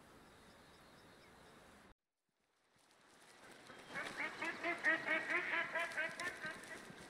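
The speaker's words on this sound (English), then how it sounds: "I have ducks quacking over there" Ducks quack in a rapid, rhythmic run of calls from a short distance outdoors, rising after a brief silent gap over soft background hiss.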